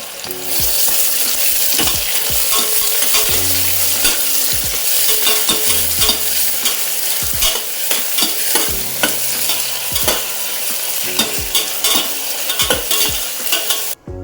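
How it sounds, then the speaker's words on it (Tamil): Two sliced onions sauté in a pan for peas pulao, a continuous loud sizzle with frequent sharp scrapes and knocks of a spoon stirring, heard up close with no voices. "இந்த 2 வெங்காயம் சேர்த்து வதக்கிக்கலாம்."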